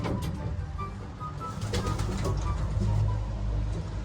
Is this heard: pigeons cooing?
yes